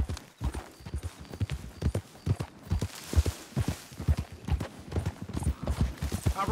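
Horse hooves pounding at a gallop in a video game, a fast, steady rhythm of close, loud clip-clopping beats running throughout, with no voices.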